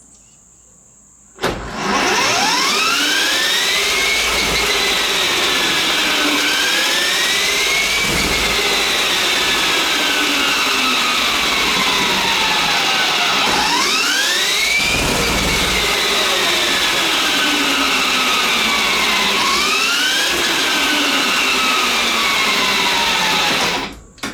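A homemade six-speed electric three-wheeler running in sixth gear gives a loud, steady electric motor whine that sweeps up and down in pitch as it accelerates and eases off, heard alone and close throughout.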